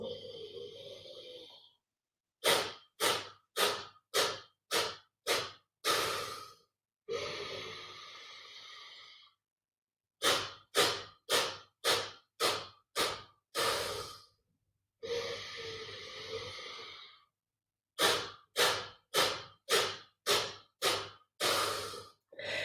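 Deep breathing during an energising morning meditation: long slow inhales alternate with bursts of quick rhythmic forceful breaths, close and clear, no words spoken.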